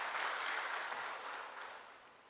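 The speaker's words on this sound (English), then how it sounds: "also being part of the people applauding" Steady applause from an audience at a keynote address, a continuous wash of clapping that fades slightly toward the end, with no talking over it.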